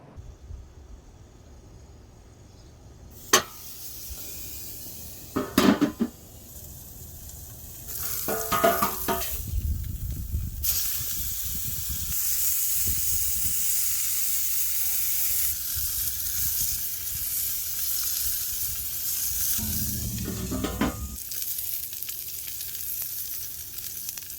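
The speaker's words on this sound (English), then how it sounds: "I'm going to cook up a frozen beef patty to make a burger" A frozen beef patty sizzles steadily on a Weber Go-Anywhere portable gas grill, a continuous crackling hiss broken by a few sharp scrapes and clanks from the spatula and grate.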